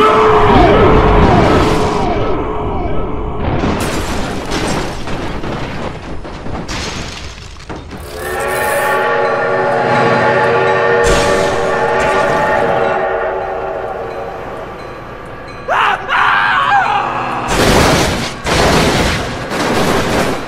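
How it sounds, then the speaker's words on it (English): A train in a vehicle crash simulation game passes loudly, with a rumbling roar, repeated horn blasts and sharp crashing bursts from cars and a flatbed trailer truck caught on the tracks. "Oh my God, train!"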